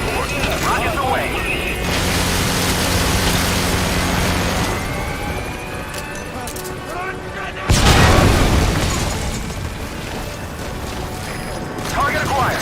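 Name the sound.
rockets fired and exploding in Metal Gear Solid V video game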